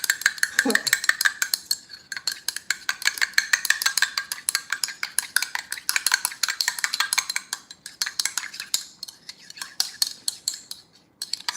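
Fork clinking and scraping against a dish while mixing empanada filling by hand, a steady run of quick close metallic taps and stirs with a brief voice early on.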